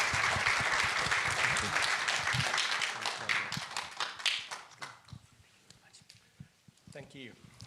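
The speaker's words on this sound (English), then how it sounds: "I would like to ask you to all of you to applaud our fantastic speakers today." Conference audience applause fills the room at first as dense clapping, then thins into scattered individual claps that fade out, with a voice speaking near the end.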